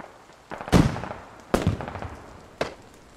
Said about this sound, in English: Rockets flying.